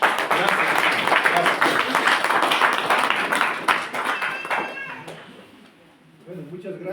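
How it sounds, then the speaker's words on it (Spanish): A church congregation at a pastors' and students' gathering in Ayaviri, Puno, Peru claps in loud, dense applause for several seconds that fades out, with voices and speech coming through at the end. "Démosle un fuerte aplauso al Señor."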